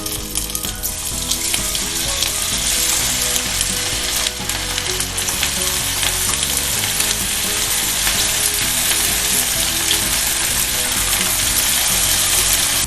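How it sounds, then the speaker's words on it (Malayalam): Cauliflower pieces for Gobi Manchurian fry in hot oil, giving a loud, steady, dense sizzle with crackling bubbles that holds throughout without letting up. "കോളിഫ്ലവർ സിസിലിംഗ് ആണ്."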